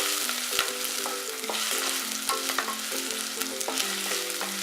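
Onion and garlic fry in hot oil over low heat for a pizza sauce, a steady bright sizzle with repeated scraping and stirring knocks from a utensil in the pan, close and continuous.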